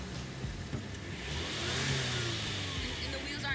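A car engine revs up after the car is shifted into drive, a steady mid-pitched engine roar that swells and holds, close by, with faint speech-like sounds mixed in.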